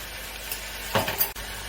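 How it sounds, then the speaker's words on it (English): Ground beef hits a hot pan with a short burst of sizzling, followed by a brief scrape and a light clink. "And then add in my ground beef."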